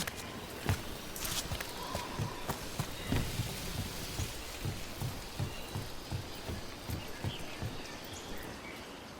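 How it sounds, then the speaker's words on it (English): Steady rain falls in the video game Dragon Age The Veilguard, a soft continuous patter beneath regular footstep-like thuds as a character climbs, moderately quiet with no talking. "if I break my neck climbing up here in the rain"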